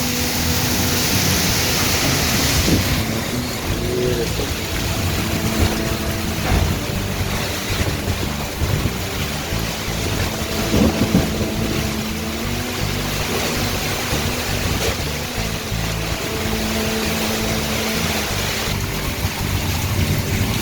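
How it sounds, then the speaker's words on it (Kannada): Heavy stormy rain pours down in a dense, unbroken roar in Mysuru, with gusting wind surging over it for the whole stretch; no voices. "ಸತತವಾಗಿ ಮಳೆ ಬರ್ತಾ ಇದೆ"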